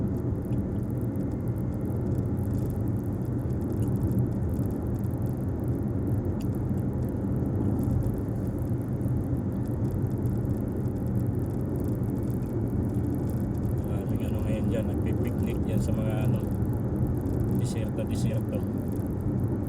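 Traffic passes on a road in the desert near Riyadh, Saudi Arabia, with steady low engine and tyre rumble throughout, while someone talks over it.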